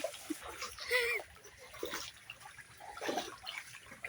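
Floodwater on a submerged street beside a flooded house splashes and sloshes in uneven bursts, fairly close, with some louder splatters near the start and again toward the end.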